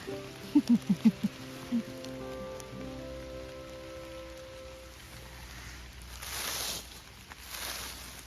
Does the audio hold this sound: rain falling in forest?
yes